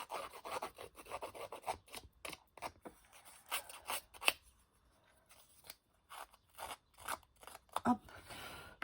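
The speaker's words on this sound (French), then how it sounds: "je vais utiliser mon distresseur comme j'ai utilisé pour faire ma couverture" A paper distresser tool rasps and scrapes along paper edges in short, repeated strokes, close and fairly quiet, with brief pauses between passes and no talking.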